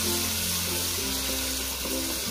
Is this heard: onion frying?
yes